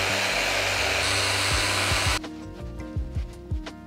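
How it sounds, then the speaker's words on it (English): Polishing machine with light cutting compound running on a BMW M2, giving a loud steady whirring drone that cuts out halfway, then leaves low thumps and handling knocks. "with a light cutting compound and a polishing machine, we're going to go ahead and treat the area"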